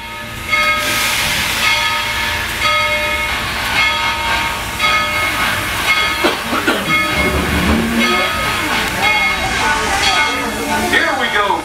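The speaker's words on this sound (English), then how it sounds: "Train's clear, Casey." A Tweetsie Railroad train rumbles and hisses as it pulls away, with steady mechanical clatter and steam-like hiss throughout, a loud, continuous sound that builds and shifts in the middle.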